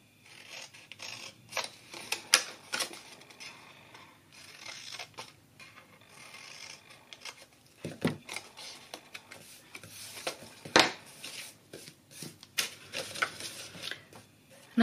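Scissors cutting cardboard up to a score line while making a sturdy box, a quiet close-up run of irregular snipping and crunching cuts with soft handling noises, no talk.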